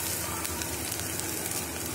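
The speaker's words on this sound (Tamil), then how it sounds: "நல்லா பச்சை வாசம் போக வதக்கிக்கலாம்." Onions with ginger-garlic paste sautéing in a pan for mutton paya give a steady, close sizzle with soft crackling throughout.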